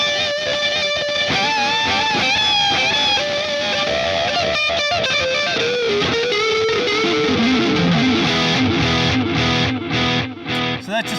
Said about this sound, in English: if I want to add a delay into my solo